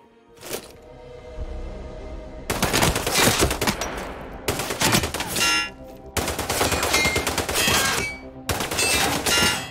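Bursts of rapid automatic gunfire rattle in the PC shooter Sniper Ghost Warrior 3, several long volleys separated by brief pauses, loud and close with no talking.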